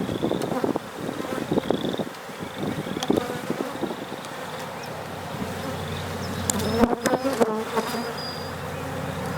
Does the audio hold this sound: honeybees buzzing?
yes